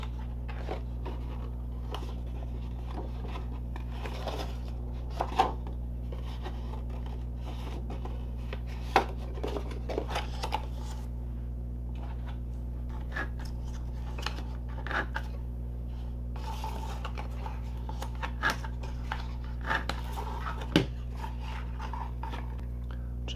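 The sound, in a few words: folding and burnishing cardstock along score lines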